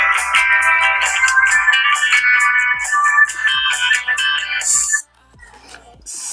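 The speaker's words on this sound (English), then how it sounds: "we got only 5 ringtones here, so this looks the loudest one" An Infocus Vision 3 phone plays a bright melodic ringtone, a loud, busy run of electronic tones with a steady beat, ending abruptly near the end, followed by a brief quieter tail.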